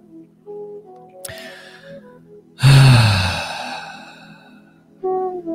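A single deep breath during a guided meditation, drawn in and slowly let out in a long, audible sigh, close and clear against a quiet background.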